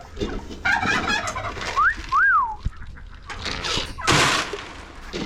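Birds call at feeding time in a farmyard with ducks and a turkey, including bright rising whistles and coo-like notes, close and intermittent with scuffling between calls.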